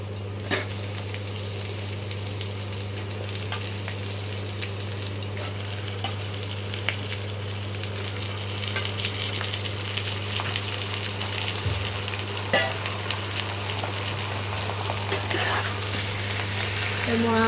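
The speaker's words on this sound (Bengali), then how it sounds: "দিয়ে পেঁয়াজের সঙ্গে মাংসগুলোকে ভাজবো।" Chicken frying with onions in a pan, a continuous sizzle with occasional stirring scrapes and utensil taps, under a steady low hum from the kitchen.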